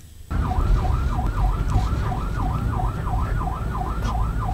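Ambulance siren wailing on a road, a loud, near rising-and-falling tone cycling steadily over rumbling traffic and engine noise after a brief quieter start.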